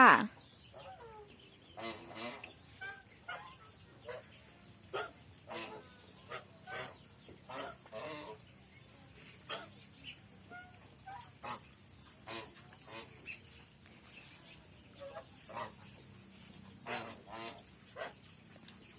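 Large domestic geese kept as guard birds honk repeatedly in short, irregular calls spread across the clip, moderately close with no talking.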